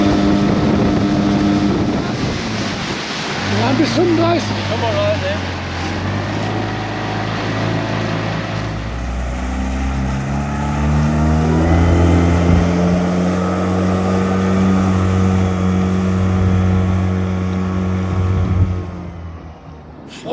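A 20 hp Suzuki outboard pushes a YAM 310 inflatable boat across the Veluwemeer, the loud close engine drone rising in pitch as it accelerates, then holding a steady high whine with wind rushing over the microphone.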